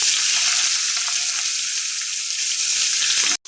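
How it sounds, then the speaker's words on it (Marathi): Chopped onion frying in hot oil with cumin, mustard seed, curry leaves and ginger-garlic paste, a loud steady close sizzle that continues without a break and cuts off abruptly at the end, no voices. "कांदा छान लालसर परतवून घ्यायचा."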